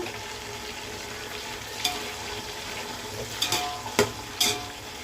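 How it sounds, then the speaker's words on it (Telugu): Onion and tomato pieces fry for mutton biryani in a pan, a steady close sizzle running throughout with a few sharper scraping stirs and clinks near the end. "ఉల్లిపాయ ముక్కలు కూడా కాస్త ఫ్రై అయింది కదా టమాటా ముక్కలు చేద్దాము"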